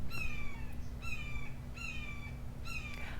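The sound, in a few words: bird calling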